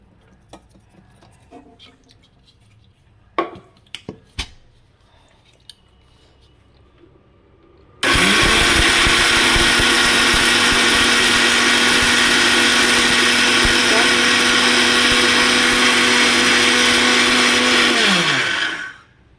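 An electric mixer grinder grinds soaked rice into batter for uppu urundai snacks: a few clanks and taps of handling, then a loud, steady whirring roar for about ten seconds before it winds down.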